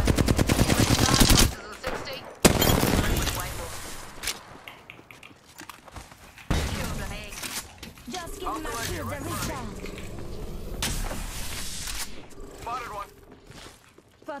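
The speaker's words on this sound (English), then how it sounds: "Enough, I'm getting shot at." Rapid bursts of automatic gunfire in a battle-royale video game, loud sharp volleys at the start, then scattered shots and impacts, with players talking over the action.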